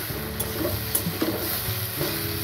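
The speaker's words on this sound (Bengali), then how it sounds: "এবার একটু নেড়ে চেড়ে নেবো।" Mashed boiled taro root being stirred and fried in a pan over a medium flame: steady close sizzling with soft scraping strokes of the spatula and occasional clinks.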